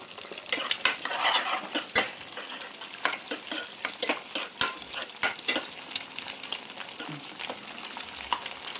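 Egg fried rice stirred in a pan over a high flame, with a utensil scraping and tapping the metal in steady, repeated strokes over a continuous close sizzle, no voices present.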